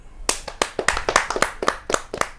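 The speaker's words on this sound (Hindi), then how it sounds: "जोरदार तालियों से इस नए कवि को, उभरते हुए कवि को आमंत्रित कीजिए।" Audience clapping to welcome a poet onstage at a Hindi kavi sammelan, a sparse run of distinct, uneven handclaps from a small crowd, fairly close and moderately loud, with no talking over them.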